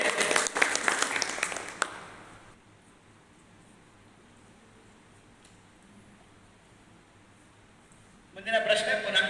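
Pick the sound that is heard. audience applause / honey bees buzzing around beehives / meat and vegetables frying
audience applause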